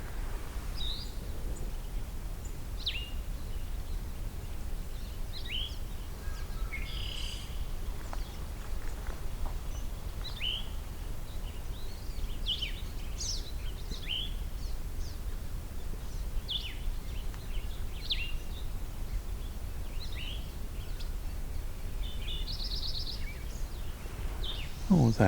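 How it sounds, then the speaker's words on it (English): A Lincoln's sparrow sings near a meadow pond, a long run of quick, bright chirps and trills from fairly close. Other small birds call over a steady outdoor hiss. "What was that? That was Lincoln sparrow."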